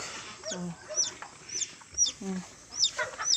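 Rhode Island hens clucking in a farm pen where chickens are kept for laying eggs, several short clucks and calls at an irregular pace, fairly close, with a few high bird chirps mixed in.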